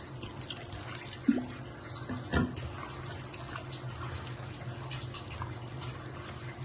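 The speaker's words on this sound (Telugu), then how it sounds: "కొంచెం వాటర్ పోసుకుందాం." Water is poured into a cucumber curry mixture of onions, green chillies, tomatoes, salt, chilli powder, turmeric and oil, a soft running pour with a couple of small knocks, quiet and close.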